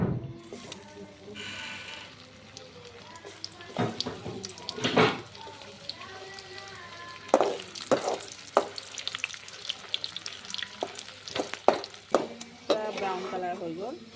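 Frying in a pan with very little oil, a low crackling sizzle broken by stirring knocks and scrapes, partly under someone talking.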